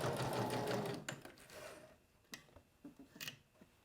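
Sewing machine stitching along the edge of a fabric lanyard, a fast whirring run of stitches that stops after about two seconds, followed by a few soft clicks and handling taps.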